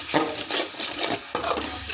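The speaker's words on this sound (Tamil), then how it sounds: "இதை கொஞ்சம் அடி பிடிக்காமல் வதக்குங்க." Blood poriyal stirred and sautéed in a pan, giving soft scraping strokes and a light sizzle that come in a few uneven bursts, close and fairly quiet, with no talking.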